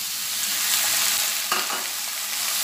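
Tomatoes going into a chicken cashew masala, sizzling loudly in the hot pan with a brief stir-scrape midway, the frying hiss steady throughout and no talk.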